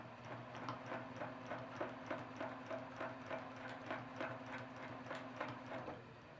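Domestic sewing machine running steadily during free motion quilting, a fast mechanical needle hum with a regular pulsing rhythm, close and moderately loud, with no talking.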